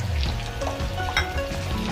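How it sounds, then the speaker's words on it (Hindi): Brain masala fries in a pan as tomato paste goes in, giving a steady, close crackling sizzle with faint stirring and no talk. "अब इसमें मैं टमाटर के पेस्ट डाल दूंगी।"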